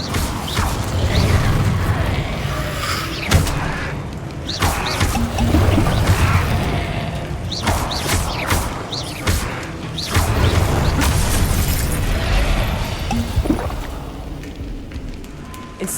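Incendio fire spell bursts in Hogwarts Legacy, repeated whooshing blasts and crackling impacts in quick succession amid combat clatter, loud and busy with no talk.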